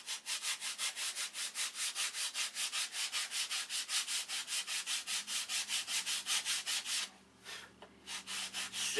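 Rhythmic back-and-forth sanding on a model airplane's wood, close and steady with about thirty even strokes, slowing and breaking up near the end.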